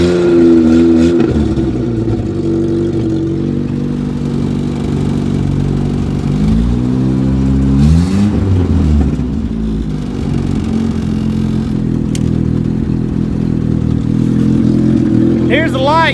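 A Toyota Wolverine engine idles and revs unevenly with a slight skip or misfire, loud and close and steady throughout, with a brief rise in revs midway and a person talking over it.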